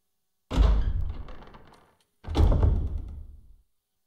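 A heavy door in the video game Resident Evil rumbles and thuds open, followed by a second deep sliding thump, two loud low-pitched movements with a brief gap between.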